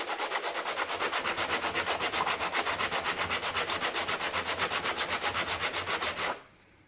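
Rhythmic back-and-forth scraping and scrubbing on the gasket surface of a Johnson Evinrude three-cylinder outboard lower unit, steady fast strokes close up with no talking, stopping abruptly near the end.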